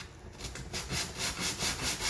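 Short, regular rubbing strokes of sandpaper along the edges of small police box model kit parts, close and fairly quiet, about five even back-and-forth passes.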